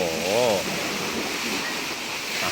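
Rough, churning sea waves crash and wash against the shore in a continuous loud roar, with wind noise buffeting the microphone and a brief warbling tone near the start.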